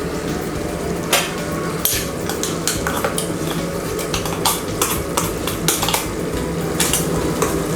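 Mutton stirred with ground paste in a pan for vellai kuruma, a steady run of clinking spoon-on-metal scrapes and knocks close by, with faint frying underneath and no talking.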